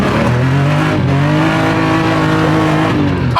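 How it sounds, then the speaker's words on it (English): A drift car with a cold engine revs hard, its loud, strained engine note holding high and steady with tire squeal mixed in, close by, at night. "God damn, Jude, this thing's a cold engine."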